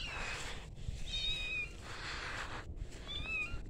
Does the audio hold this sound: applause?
no